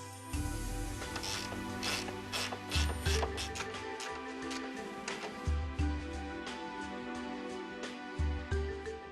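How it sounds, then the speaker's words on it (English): Steady ratchet clicking while nuts are tightened on the hydraulic pump of a Mercedes W230, with repeated rapid bursts of pawl clicks over a low mechanical rumble, close and fairly loud. "You can, however, tighten the nuts on the pump with a ratchet."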